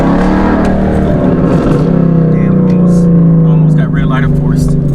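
Ford Mustang with a clutch fault, suspected in the slave cylinder or throwout bearing, runs steadily up close with a loud, uneven low engine drone that sags as the car begins to die out.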